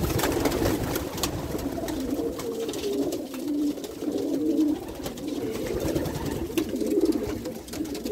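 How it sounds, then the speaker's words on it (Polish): Pigeons cooing continuously in a loft, a soft low burbling chorus close by, with no talking. "Na szybkiego tylko wam też pokażę, że jeszcze są następne gołąbki,"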